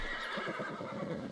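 A horse whinnies steadily in the medieval survival game Life Is Feudal, a close, sustained neigh lasting over a second with faint hoof clatter beneath and no talking.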